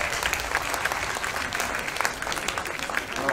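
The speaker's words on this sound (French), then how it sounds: "Donc je pense qu'on peut en profiter, on peut applaudir" Audience applause at a live conference on the circular economy: dense, continuous clapping from a sizable crowd, steady and fairly loud for the whole stretch with no voices over it.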